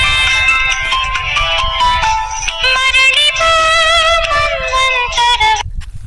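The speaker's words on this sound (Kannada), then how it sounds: "ಮೊಬೈಲ್ ಫೋನ್ ಕಣ್ರಿ ಬಾರಿ ಫೋನ್" A mobile phone rings with a bright, busy musical ringtone, loud and close, playing continuously for several seconds before cutting off abruptly near the end.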